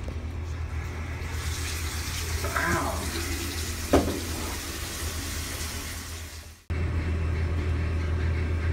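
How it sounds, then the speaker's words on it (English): Water runs into a pipe inside a wall where an obstruction sits, a steady close rushing hiss with a couple of soft knocks that cuts out briefly near the end and then resumes at the same level. "See the water running to the pipe?"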